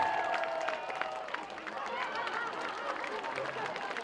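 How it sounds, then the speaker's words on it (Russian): An audience applauds after a solo dance performance, a steady wash of clapping with some cheering and crowd chatter, fairly distant and moderately loud throughout. "Аплодисменты!"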